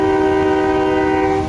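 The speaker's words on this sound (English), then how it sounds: "There's the end of the train." A train passing during a rainstorm in Rainier, a loud sustained horn-like tone with steady harmonics over a low rumble of railcars, close and unbroken.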